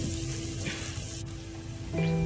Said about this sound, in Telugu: ఈ ఆనియన్స్ బాగా ఫ్రై అవ్వాలంటే కొంచెం ఉప్పు వేసుకోవాలండి.